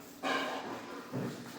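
A stubborn dog gives two short barks close by, the first longer and the second brief, with quiet between them.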